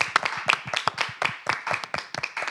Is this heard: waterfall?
no